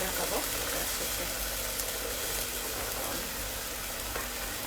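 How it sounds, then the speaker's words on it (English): Boiled dal hits a hot pan and sizzles loudly, a steady broad frying hiss that holds throughout with no talk. "I'm taking this dal that's been boiled and I put the dal on it"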